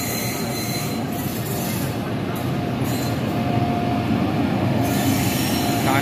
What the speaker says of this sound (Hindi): तो सारनाथ एक्सप्रेस प्लेटफॉर्म नंबर 4 पर आती हुई,